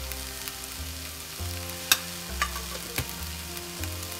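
Green bell pepper stir-fried in a pan for capsicum chutney, a continuous close sizzle punctuated by several sharp clinks and scrapes of a spatula tossing the pieces at irregular intervals, no voices.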